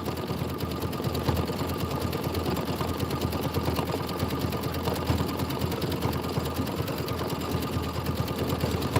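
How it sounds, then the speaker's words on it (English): A sewing machine runs continuously through a decorative stitch, its rapid needle chatter steady and fairly loud for about nine seconds with no talking. "Now I'm going to do the decorative stitch."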